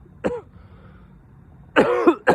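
A single short cough near the start, then a pause and two louder, harsher coughs close together at the end, from choking on gum saliva.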